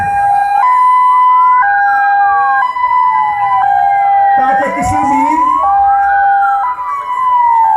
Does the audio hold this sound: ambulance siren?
yes